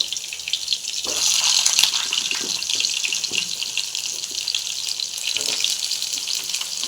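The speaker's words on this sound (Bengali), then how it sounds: "এবার আলু, পেঁপে এগুলো ভেজে নেবো।" Potatoes and papaya fry in a pan with a continuous dense sizzle close by, a brief surge in intensity early on, and no talking.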